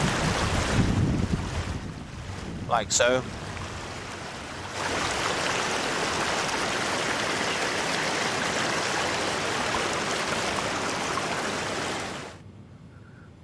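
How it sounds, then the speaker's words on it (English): A wash of steady rain noise in a VR graffiti game fills the scene, briefly dipping and returning louder before cutting off abruptly; a voice speaks briefly near the start. "when you go inside, you can still hear the rain outside, but obviously the sound drops."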